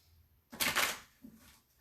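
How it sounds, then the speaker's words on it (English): A brand new deck of playing cards gets a quick riffle shuffle, heard close and quiet: one crisp burst of fluttering card snaps followed by a shorter softer riffle. "So we're gonna shuffle these things, and shuffle, shuffle, shuffle."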